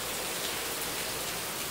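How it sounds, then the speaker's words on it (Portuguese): Rain falling steadily outdoors on a wet day, a soft, even hiss with no breaks and no voices. "Hoje, por exemplo, tá, ó, que bênção de Deus, tá chovendo."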